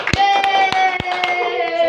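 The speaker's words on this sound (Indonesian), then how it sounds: "silakan duduk, tepuk tangan buat kelompok pasangan Ola dan Mesa." Children in an Indonesian primary classroom clap their hands for a pair of classmates, giving a few distinct, fairly loud claps over a sustained tonal hum.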